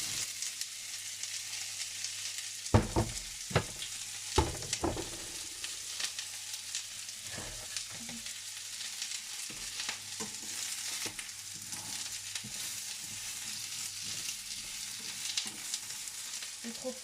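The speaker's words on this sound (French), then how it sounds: "donc du coup on va mettre les oignons" Onions fry in a hot pan with a soft, steady sizzle, broken by a few sharp knocks and scrapes of a utensil as they are moved around.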